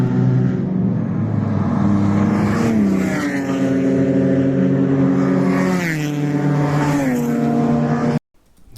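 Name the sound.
Volkswagen Golf race car passing on track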